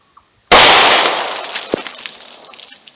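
One loud, sharp gunshot from a 9mm pistol firing a Federal HST round cracks after a brief quiet, then decays into a long echoing tail outdoors.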